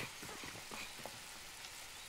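Soft, steady patter of rain on a bus, faint and continuous with scattered drips, no voices.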